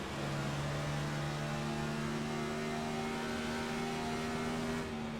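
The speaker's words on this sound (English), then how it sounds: "Man, these cars sound so good. And I think Sikosi may even be downshifting." Race car engines from an iRacing NASCAR Cup sim race at Dover drone steadily at high revs with a sustained whine, holding loud and close with a slight pitch shift near the end, without talk.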